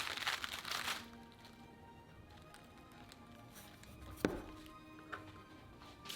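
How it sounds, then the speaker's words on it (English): A knife crunches through crisp napa cabbage leaves, quartering the head, with a rustling, crackly burst at the start, then a couple of sharp, close cracks as the blade snaps through. "cut the Napa cabbage into quarters"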